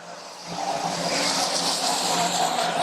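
Stock cars racing on the final lap, engines roaring loudly and continuously as the field passes close by, with a rising swell of motor noise and faint tire squeal.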